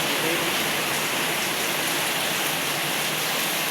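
Heavy rain falling hard outdoors, a thick unbroken roar of steady hiss close by, with no clear voices over it.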